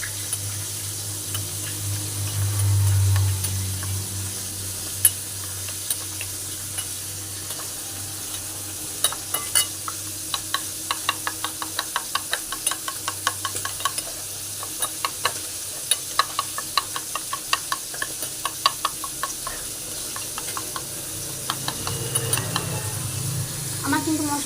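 Spice paste is mixed in a pan for a spicy rohu and katla fish curry: a faint sizzle under scattered, rapid scraping and tapping clicks that bunch up in the middle and later stretches.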